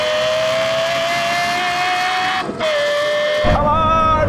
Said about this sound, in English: We're going to roll in, second gear, 30 miles an hour, then race over the half mile.